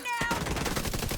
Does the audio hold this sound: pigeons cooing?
no